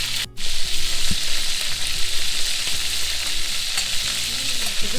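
Beef fries in oil in a pan for a Cambodian pickled lime soup, giving a steady, close, crackling sizzle throughout with a brief clatter near the start.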